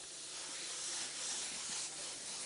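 An airbrush spraying paint flames onto a Hummer, giving a soft steady hiss of air and paint that holds the whole time with slight swells, faint and close.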